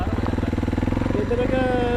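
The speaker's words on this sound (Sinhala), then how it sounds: "මේ බයික් දාලා තමයි කන්ද මුදුනට යන්න වෙන්නේ." A motorbike engine throbs steadily and rapidly at close range on a rural hill trail, holding a constant pulse throughout.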